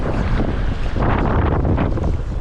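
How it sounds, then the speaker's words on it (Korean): Strong, gusty wind buffets the microphone at a sea fishing spot on Munseom island off Seogwipo, a loud continuous roar with surging broadband rushes and no speech. "바람이 장난 아닌데 아 옆바람"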